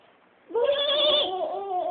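A child imitates a goat's bleat with a wavering, nasal voice, holding one drawn-out call after a brief quiet start.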